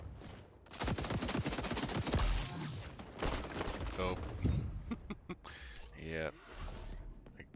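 Rapid bursts of gunfire from the video game XDefiant, loud and dense, with overlapping automatic shots and a few sharper cracks, under a player's speech.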